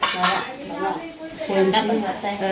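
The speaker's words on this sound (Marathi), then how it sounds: "भांडी पडल्या बघा" Metal kitchen pots and utensils clatter and clang in a home kitchen while milk is heating, a few loud jangling hits close by with faint talk around them.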